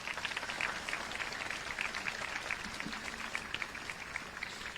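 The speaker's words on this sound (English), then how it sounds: "Let's give them a round of applause, please." An audience at a middle school promotion ceremony applauds the teachers, a moderate, continuous patter of many hands heard from some distance, fairly quiet and steady.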